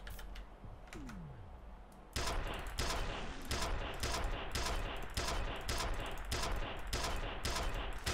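Stake gun firing in the F.E.A.R. video game, a quiet opening followed by loud, rapid, continuous bursts of gunfire and impacts that fill the rest of the clip.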